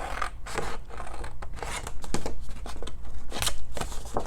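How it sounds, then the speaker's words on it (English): Scissors snipping through decorative Christmas craft paper, a run of quick crisp cuts and rustles close up, with no talking. "and cut it completely off."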